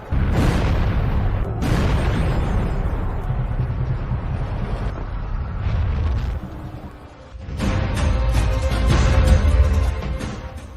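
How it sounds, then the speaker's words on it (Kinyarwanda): A sound effect of a star exploding in space, a loud, sustained deep rumbling roar that briefly dips and then surges back up. "Tekereza nko mu isanzure inyenyeri ishwanyutse."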